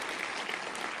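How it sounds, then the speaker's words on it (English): Fans at a Supernatural panel at PaleyFest 2006 clap and cheer together in a dense, steady burst of applause that fills the room for about a second, with no clear voices over it. "give yourself a round of applause"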